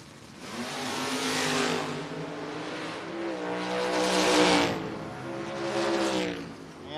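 Drag race cars, including the Cheap Thrills Chevelle, launch at a No-Box 660 shootout: loud engine roars with rising, revving pitch swell in three surges and keep droning steadily from nearby.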